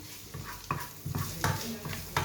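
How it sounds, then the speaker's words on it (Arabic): Chopped vegetables cooking in a pan for a chicken and mushroom cream dish, with a soft sizzle under repeated scraping stirs that come in short bursts about every half second, close and moderately loud. "ها هي الخضيره بدات تطيح مزيان"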